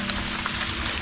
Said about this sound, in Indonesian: Hujan lebat, badai ini berkabut juga keliling.